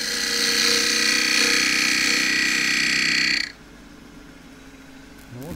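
Chisel shear scraping the underside of a loquat wood plate spinning on a lathe: a steady, loud scraping whir with a bright hiss that stops abruptly midway, leaving a quieter motor hum.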